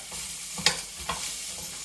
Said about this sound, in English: let's give them a bit of a sizzle in that oil